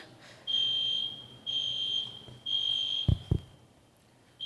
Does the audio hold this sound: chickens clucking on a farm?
no